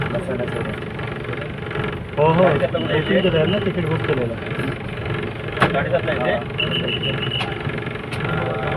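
A red MSRTC state transport bus idles with a low, steady rumble running beneath nearby conversation, with a few sharp knocks along the way.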